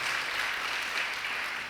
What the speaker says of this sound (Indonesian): Yang setuju beri tepuk tangan bagi Tuhan Yesus.